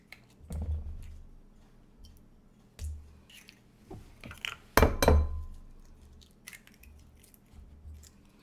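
Eggs cracked and separated into yolks and whites for tiramisu, with a few close, distinct knocks, wet squishes and glassy clinks from shell and bowl spaced across a quiet kitchen.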